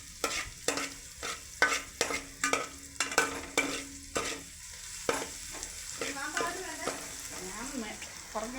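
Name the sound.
ginger, garlic, shallots, curry leaves frying in coconut oil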